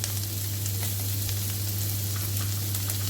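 Masala pasta being sautéed in a pan gives a loud, continuous sizzle with a constant low hum beneath it, close and without talk.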